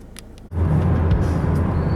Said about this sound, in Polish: Jesteśmy na lotnisku i sprawdzimy, jak autko przyspiesza od zera do.